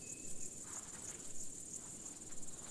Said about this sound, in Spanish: Los saltamontes de Pantano Grandes son fáciles de reconocer por su canto, que producen a través de golpeteos rítmicos con sus patas traseras.